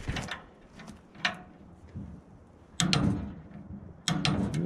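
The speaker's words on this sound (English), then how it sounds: "So we'll get out the old torque wrench" A torque wrench releasing the blade tension on a sawmill, giving a few sharp mechanical clicks and clunks spaced several seconds apart, close by over low background noise.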